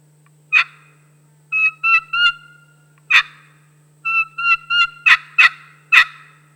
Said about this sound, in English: it will help you accomplish a KeeKee run with a pot style call